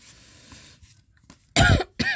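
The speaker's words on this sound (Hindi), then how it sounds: "सॉरी गाइस, मेरी खांसी ठीक नहीं हो रही है।" A faint murmur, then two loud, close coughs in quick succession, the first longer and harsher than the second.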